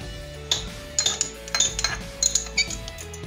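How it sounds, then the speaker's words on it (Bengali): Fried peanuts tipped into a pan while cooking a vegetarian pumpkin dish, giving a string of light clinks and clattering taps against metal, close and fairly loud, with no talking. "এখন দিয়ে দিচ্ছি এই বাদাম ভাজাটা।"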